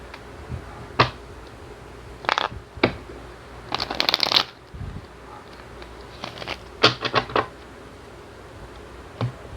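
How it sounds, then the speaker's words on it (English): Tarot cards are shuffled in short, crisp bursts of riffling and flicking, separated by brief quiet pauses, close up with no talking. "Time to shuffle the tarot cards here."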